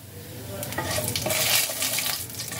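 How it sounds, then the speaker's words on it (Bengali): Nigella seeds (kalo jeere) sizzle in a wok of hot oil left from frying pabda fish. A steady hiss swells and crackles, loud and close, with no voices. "এবার কড়াইতে ওই তেলের মধ্যে দিয়ে দিচ্ছি কালো জিরে।"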